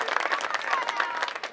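Fans applauding at a girls' high school soccer game at Dilboy Stadium, a brief burst of scattered outdoor clapping with a little crowd noise, heard only for a moment.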